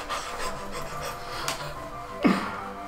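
A voice imitates a dog panting: quick, breathy huffs repeated close up, fairly soft, with no other talking.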